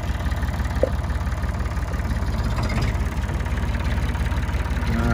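Massey Ferguson 30B tractor engine running at idle, a loud, close, steady low chugging with even knocking pulses and a brief faint click partway through.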